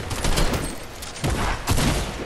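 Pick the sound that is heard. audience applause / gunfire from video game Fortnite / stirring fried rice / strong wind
gunfire from video game Fortnite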